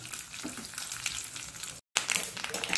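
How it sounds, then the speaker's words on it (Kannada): Mustard seeds spluttering in hot oil with urad dal and garlic for Mangalore-style beans sukka: a dense, close sizzle of crackling pops, briefly cut off before resuming, with no talking. "ಸಾಸಿವೆ ಹೊಡಿಬೇಕು"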